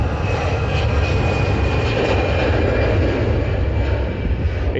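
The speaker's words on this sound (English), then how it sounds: "there's the Lufthansa going to Munich on a takeoff roll" A Lufthansa airliner bound for Munich makes its takeoff roll at Manchester Airport, a loud, steady broadband engine roar holding constant throughout with no voices.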